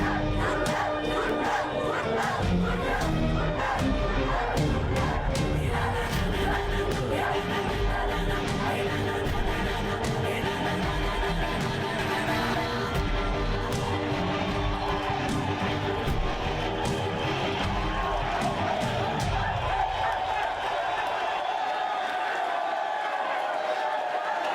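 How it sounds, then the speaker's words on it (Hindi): A large outdoor crowd roars and cheers in a continuous, dense wash of voices with scattered shouts and yelps, loud and near, before the noise thins out near the end. "जनता की दाद सुनाई दे रही है?"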